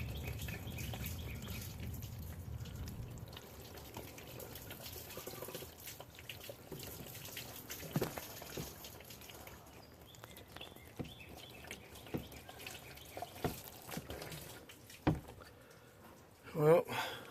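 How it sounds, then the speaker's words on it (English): A whole pitcher of water is poured over the cab roof of a 2016 Ram 1500 pickup during a leak test, a steady splashing wash for the first few seconds that fades into quieter drips and knocks. "that was a whole pitcher of water"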